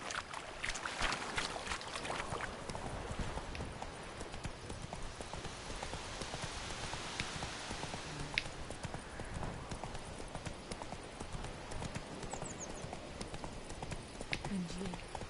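Roach, a horse in The Witcher III, gallops with a quick, steady clip-clop of hooves under a continuous wash of game ambience, with faint voices at times.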